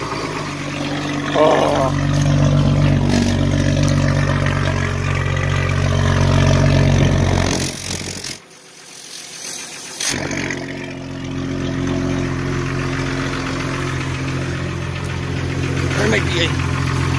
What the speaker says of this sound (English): New muffler in. Let's fire it up.